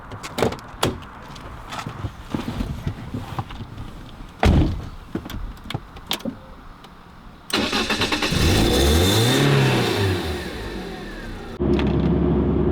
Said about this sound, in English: Now it's time to drive the car home.